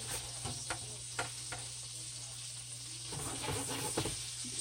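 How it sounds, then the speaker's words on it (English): Onions and shrimp frying over high heat in a pan, a steady close sizzle with a few sharper spatula clicks and stirs scattered through, the crackle growing a little busier near the end. "get my onions and shrimp going in the pan"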